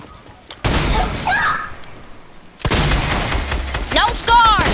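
During a sniper battle in a video game, two loud, booming gunshots ring out a couple of seconds apart, each followed by a long rumbling echo, with voices talking briefly over them.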